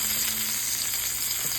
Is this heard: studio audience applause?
no